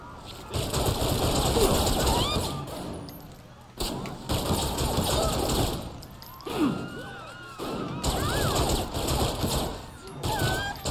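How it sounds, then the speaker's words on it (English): Rapid handgun fire rattles in the video game Saints Row The Third, dense repeated shots in long bursts with brief gaps, mixed with game chaos and voices talking. "I love these handguns, how you can just spam them, like, you fire so fast"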